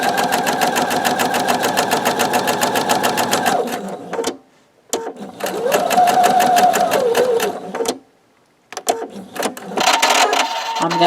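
A sewing machine stitches log cabin quilt blocks in rapid, even runs, stopping briefly twice before starting again, loud and close with no talking.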